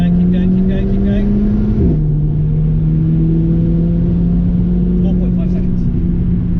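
A Mercedes CLA 45 AMG launches at full power, its engine droning loud and close as the pitch climbs. A gear shift briefly drops the note before it rises again. A voice talks over part of the run.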